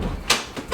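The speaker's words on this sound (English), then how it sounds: "I gotta close that door." A door inside an Airstream trailer is pulled shut, giving a sharp, close knock followed by a couple of softer rattling bumps in quick succession within under a second.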